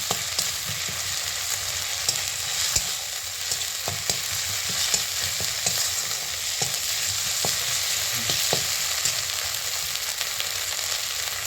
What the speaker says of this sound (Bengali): রসুনটা একটু ভাজা হয়ে গেলে দিয়ে দেবো আদা বাটা